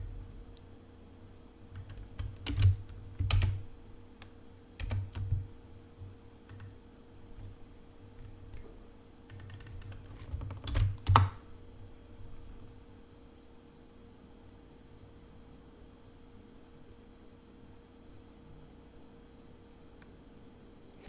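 Short bursts of computer keyboard typing in the video game Ahnayro, crisp close clicks clustered in a few quick runs before trailing off into quiet room tone.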